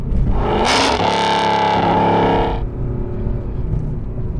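A straight-piped Renntech Mercedes CLK63 AMG Black Series engine revs hard and loud, rising to a sharp peak before dropping back to a rumbling idle.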